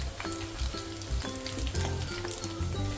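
Dry fish frying in oil in a pan, giving a continuous dense sizzle with bursts of crackle and a few soft knocks of stirring, close and without voices.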